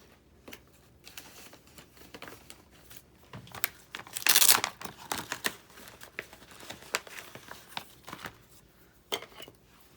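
Vintage tape is torn and handled for a paper craft tag, a close dry stream of crinkles, rips and small taps with a louder burst of tearing partway through, no voices.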